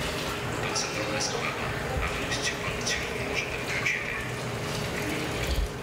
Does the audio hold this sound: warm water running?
yes